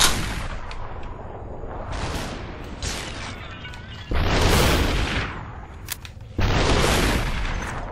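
Video game gunfire in bursts, sharp loud shots and booming volleys that come in three waves separated by short lulls, the later bursts hitting hardest.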